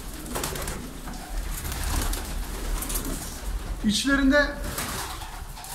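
Pigeons in a room of a large flock for sale, including double-crested lemon and white birds, coo in a low steady murmur, with one clearer nearby coo and a brief spoken word.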